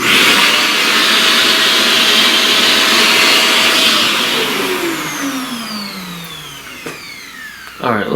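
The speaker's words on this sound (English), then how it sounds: "let's vacuum that." A vacuum cleaner runs loudly and close with a steady whine, then winds down as its pitch falls and the motor fades away, ending with a small knock. A voice may be faintly present under the motor.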